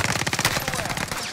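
Rapid automatic gunfire in Call of Duty Warzone, a dense loud burst of shots crackling close by across the whole moment, with a faint voice in the mix.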